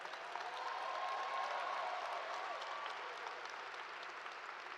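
Sustained audience applause at an MLK Day convocation at TSU, a steady dense wash of many hands clapping at a moderate distance, holding evenly throughout with no one speaking.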